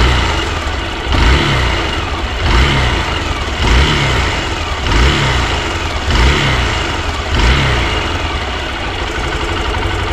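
A Hero XPulse 200 motorcycle engine revs in repeated bursts, about five throttle blips rising over a steady idle, loud and close with no talk.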